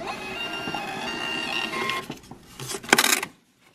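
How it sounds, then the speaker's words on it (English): A cheap thermal label printer feeds and prints a label, a steady mechanical whir of the print head and roller running for about two seconds, then a few sharp clicks and a final cutting snap before it stops. "Let's go ahead and get this printed and see what happens over here with the printer."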